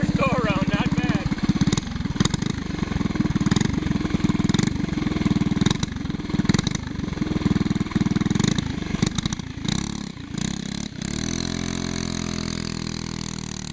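A go kart with a Briggs and Stratton Animal small engine runs close by, its steady buzzing drone rising and falling with throttle before dropping back to idle.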